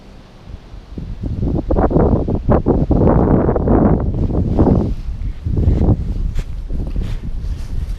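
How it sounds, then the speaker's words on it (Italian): Strong wind buffets the microphone on a hiking trail near Lake Laceno, in heavy, continuous gusts, with rustling and rumbling bursts throughout; no talking. "A dimostrazione di quanto è la forza del vento."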